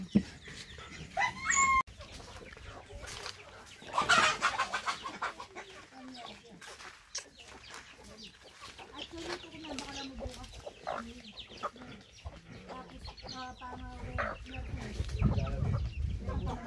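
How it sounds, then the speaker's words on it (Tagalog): Native chickens on a farm cluck and crow intermittently outdoors, with a rooster call, scattered voices and a dog nearby in the background. "Ay, mga manok native"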